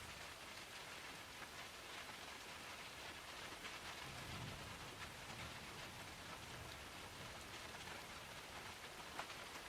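Steady rain pours over a dark outdoor setting with low rolls of distant thunder, a dense even hiss throughout with no voices.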